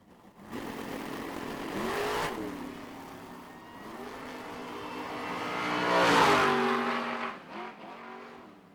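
Drag racing cars, a Nova and a wheel-standing Roadster, roar loudly as they launch and accelerate down the strip, engine pitch rising and falling in sweeping waves before surging to a peak and fading.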